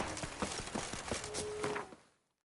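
Roach the horse trotting in The Witcher 3, with a run of close, regular hoof clip-clops on hard ground that fade out toward the end.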